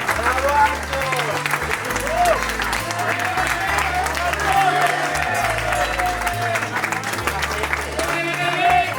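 Applause at a Ligier car factory visit, a steady roll of clapping from a gathered crowd with cheers and voices mixed in, continuous and fairly loud.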